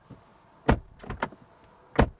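A 2022 Audi Q7 seven-seat SUV door shuts with solid thuds, a firm slam near 0.7 s, lighter knocks after, and another solid close near the end, loud and close with no talk.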